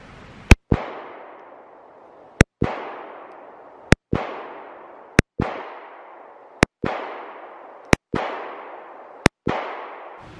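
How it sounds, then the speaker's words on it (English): Eight pistol shots from a Walther PPS M2 handgun at a shooting range, loud sharp cracks spaced roughly one to two seconds apart, each followed by a short fading echo, with no talk. "I'm going to shoot 8 shots with the Walther PPS"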